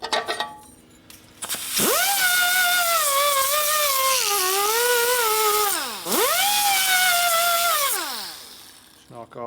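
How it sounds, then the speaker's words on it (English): A small rotary sanding disc whines against the riveted ratchet plate of a 1970s Harley-Davidson Sportster kick starter, two long high-pitched grinding passes with the pitch dipping as load increases, separated by a brief pause. "So we just take our little sanding disc here."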